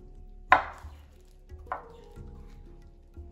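A knife chops vegetables into small pieces on a cutting board while making Spanish rice. Two crisp, close chops are heard, separated by about a second, in a quiet kitchen.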